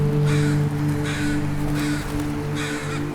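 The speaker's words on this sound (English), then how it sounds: "They will produce the scold call, caw, caw, caw, caw." Harsh crow caws, a scold call, repeat in four loud, evenly spaced bursts over a steady low hum, close by and insistent.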